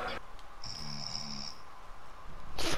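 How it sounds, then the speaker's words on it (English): Ricky, a character in the video game GTA 5 Online, snoring in a drawn-out, rumbling breath with a whistling tone on top, a single snore cycle, moderately loud over faint background hiss, ending in a short noisy burst. "Ricky snoring? Yep."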